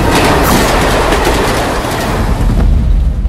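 Train rolling along railway tracks, a loud, dense rumble with rhythmic clickety-clack wheel beats that carries through the whole stretch with no voices.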